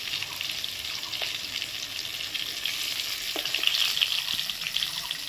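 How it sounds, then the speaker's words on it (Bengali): Stuffed pointed gourd (potol) frying slowly in oil, a steady close sizzle with faint crackles and a few soft clinks of turning, no voices. "ওপাশ উল্টে উল্টে আস্তে আস্তে ভাজবে"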